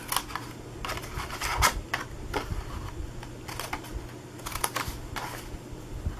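A scalloped tag topper punch board snips paper tag tabs at the corners, giving a series of sharp dry clicks and cuts in irregular bursts, close and fairly quiet.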